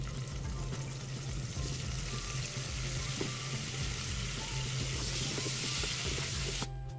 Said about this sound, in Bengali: এবার আমি এই কড়াইয়ের মধ্যে ফুলকপিটা আগে ভেজে তুলে নেব।